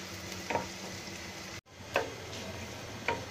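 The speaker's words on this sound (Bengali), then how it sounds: "পেঁয়াজগুলো ব্রাউন করে ভেজে নেব।" Half a cup of onions frying toward brown for aloo dum: a steady close sizzle broken by three sharp scrapes of a spoon stirring the pan, with a brief dropout midway.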